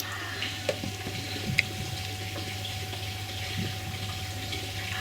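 Gearbox fluid pours steadily into the Getrag gearbox of an R50 MINI with a continuous liquid trickle and low pump-like hum, a couple of faint clicks breaking through.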